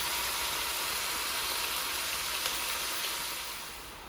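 Teriyaki chicken thighs sizzle in a hot pan, a steady, dense crackling hiss that holds evenly and fades slightly at the end, with no voices over it.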